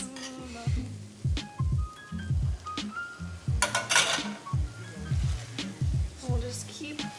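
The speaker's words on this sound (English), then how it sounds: "We'll just keep stirring the rice until you can see almost no liquid on the bottom." Rice and dashi are stirred in a pot for arancini, giving repeated scraping and clinking strokes of a utensil against the pan at a moderate level, with occasional louder knocks.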